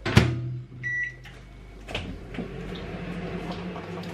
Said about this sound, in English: And I'm just gonna cook this in the microwave.